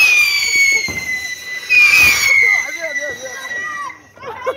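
Diwali fireworks with an anar fountain and rockets: a continuous loud hissing, crackling spray with a louder burst midway, then it fades while people talk and shout excitedly nearby.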